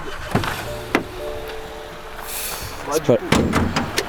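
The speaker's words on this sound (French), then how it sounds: "Allez, on va ouvrir le bolide." A BMW M135i xDrive being opened, with a latch click, the whir of a frameless window dropping and door clunks, close by, while someone talks over it.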